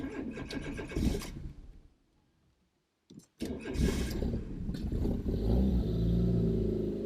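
A Fiat Punto petrol engine with freshly replaced spark plugs cranks in a short burst after a pause, then catches and settles into a steady, close idle.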